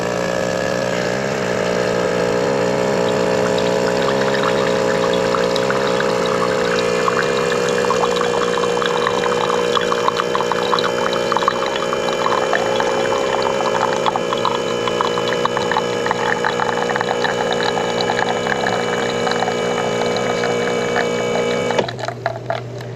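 A De'Longhi ECP3630 espresso machine pumps and brews espresso with a steady, loud mechanical hum and buzzing drone that holds for about twenty seconds, with a gurgling, watery texture building midway before the pump cuts off abruptly near the end.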